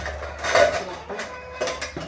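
Metal pots and pans being handled and set aside in a home kitchen while cooking, a few clanks and scrapes of cookware at close range, moderately loud with short pauses between.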